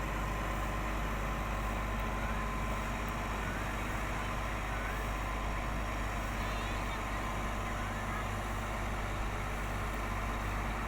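An empty tugboat motors along a river past a Japanese village, giving a steady low engine drone heard from a distance, continuous and fairly faint, with no speech.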